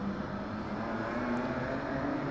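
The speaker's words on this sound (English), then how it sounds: "Stock cars. Stephen Thompson leads them off down into turns 1 and 2." Stock cars racing at a street stock oval event, a continuous loud engine roar from the pack heading down into turns 1 and 2, steady and dense with no talk over it.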